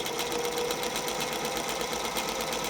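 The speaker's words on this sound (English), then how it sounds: "I'm going to sew 3/8 of an inch seam allowance" A sewing machine runs steadily while stitching a 3/8-inch seam allowance, its fast even whirring and rattle close and continuous throughout.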